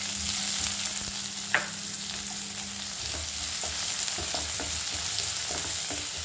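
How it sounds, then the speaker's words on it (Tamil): Onions sautéing in hot oil in a pan with curry leaves, a steady close sizzle and fry running throughout with a few light stirring clicks and a brief spatula knock. "பாருங்க, நல்லா வெங்காயம் வதங்கிச்சு."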